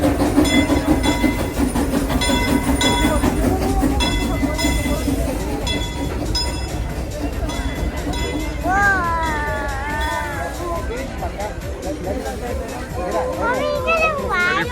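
Old steam train of the Frisco Train Line at Silver Dollar City on a Christmas ride, heard from on board: a loud, continuous rumble and clatter on the rails, with voices and children's chatter in the background.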